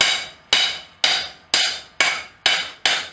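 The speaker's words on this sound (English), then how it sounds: "Once we get this nice and radiused out here, I'll continue my forging." Hammer blows on hot steel while forging a blacksmith nail header tool, seven sharp ringing strikes at a steady half-second rhythm, each with a bright metallic decay, close and loud with no talking.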